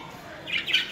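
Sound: pet budgie chirping and flapping wings

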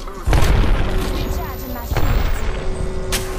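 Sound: grenade explosions in the video game Apex Legends

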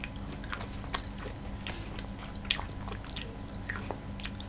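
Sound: child chewing food

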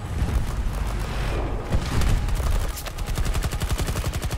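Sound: stationary turret firing in Battlefield 2042 video game

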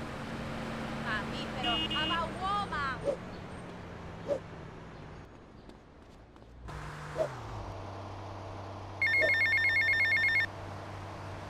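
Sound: payphone ringing in video game GTA Vice City

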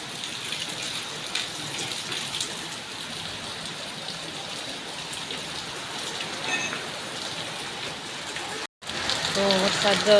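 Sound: heavy rain starting to pour

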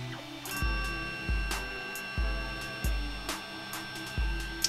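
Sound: 3D printer printing RC car parts

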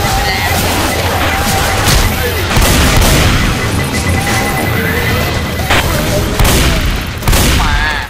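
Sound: auto shotgun firing in Left 4 Dead 2 video game

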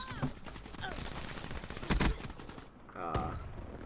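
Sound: gunfire in video game Black Ops 3

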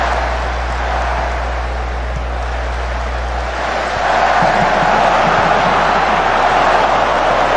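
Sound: crowd chanting olé in video game Football Manager 2020

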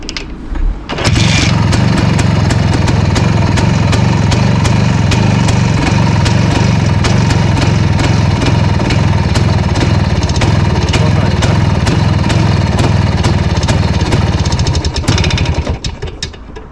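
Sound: IZh Planeta 5 motorcycle engine idling, cold

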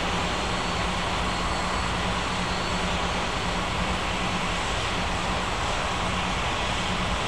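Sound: aircraft taxiing to the gates

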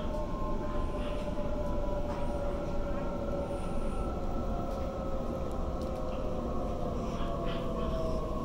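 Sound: Sydney Waratah A set train running

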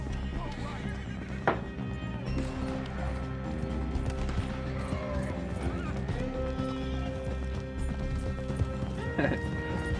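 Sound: horse hooves galloping, video game Red Dead Redemption 2

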